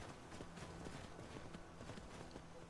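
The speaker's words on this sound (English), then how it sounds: "Let's get on the horse." Horse hooves clip-clop in Skyrim Special Edition, a quick steady run of faint, soft hoof beats with a light rhythmic patter and no talking.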